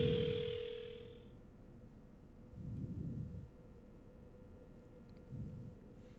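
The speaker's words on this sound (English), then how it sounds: "Right, the phone. I got to call an ambulance." A telephone dial tone sounds as a call is placed for an ambulance in the mystery video game Paranormasight: The Seven Mysteries of Honjo. A clear steady tone holds for just over a second, then fades into low, soft rumbles.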